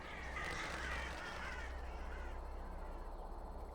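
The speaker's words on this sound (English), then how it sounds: "A lot of birds" Crow-like caws and other bird calls in woods beside a lake, a steady chorus at moderate distance over a noisy outdoor background.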